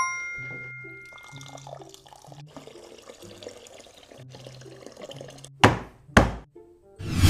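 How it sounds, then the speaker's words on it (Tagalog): Water is poured into a pot of rice mixed with crushed dragon fruit. A low hum fills most of the stretch, then a couple of short, loud pouring splashes come near the end. "maglalagay na tayo dito ng tubig para talaga masaing na natin siya"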